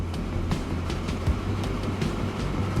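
Early slow trains rumble steadily through a junction in the rail-building game Transport Fever 2, a low continuous hum with faint repeated clicks, no talking.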